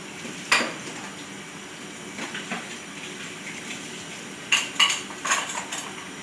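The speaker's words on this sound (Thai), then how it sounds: "ส่วนกล้วยของเราเดี๋ยวเราแกะเปลือกแล้วหั่นเป็นชิ้นๆ ตามขนาดที่ต้องการ" Peeled bananas are cut into pieces with a knife while making a Thai banana-in-coconut-milk dessert, giving sparse, close clicks and taps on a board or pot in short clusters separated by quiet gaps.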